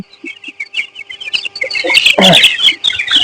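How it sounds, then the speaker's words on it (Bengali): Several chickens clucking and chirping close by, a busy, lively overlapping chatter that grows louder and denser toward the end. "এই যে মুরগিগুলা দেখছেন"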